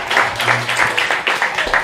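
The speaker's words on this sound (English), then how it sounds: "give yourself a round of applause for looking so beautiful" A short burst of scattered audience clapping at a presidential town hall, moderately close, with a faint voice underneath.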